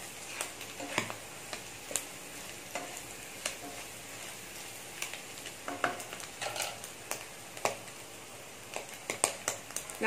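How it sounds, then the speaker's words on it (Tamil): Squid sizzles steadily in a hot pan for a dry roast, a dense continuous frying hiss with frequent small pops and occasional stirring clicks, close and with no talk. "நல்லா ஃப்ரை ஆகிட்டு இருக்கு."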